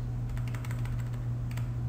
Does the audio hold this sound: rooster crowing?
no